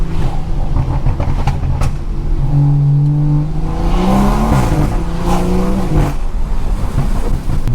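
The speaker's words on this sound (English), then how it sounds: "Let me try to make y'all hear the intake." Straight-piped BMW 340i with a B58 engine revving hard, a loud, continuous roar with the pitch climbing and falling through the rev range, heard from inside the car and dominating everything.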